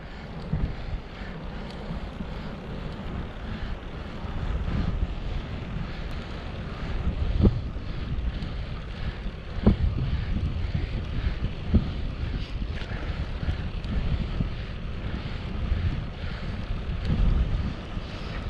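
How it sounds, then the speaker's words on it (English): Strong wind buffets the microphone in a steady low rumble with occasional gusts, no voices, with an open outdoor feel. "Very windy at the moment."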